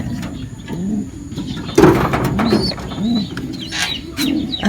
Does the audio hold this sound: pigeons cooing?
yes